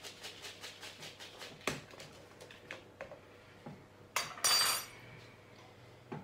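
A spoon clinks and scrapes in a bowl while cocoa powder is stirred into syrup and butter for chocolate tiffin, irregular light taps and knocks close by, with a couple of sharper clanks near the end.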